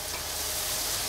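Garlic, spices and carrots for osso buco sauté in a pan with a brief, even hiss of frying, close and steady.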